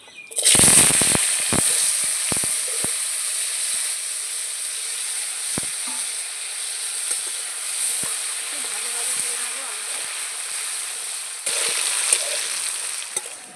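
Cut potatoes drop into hot oil with a dried chilli and radhuni tempering, a loud burst of crackling and sharp pops at the start settling into a steady frying hiss with scattered spits, rising again near the end.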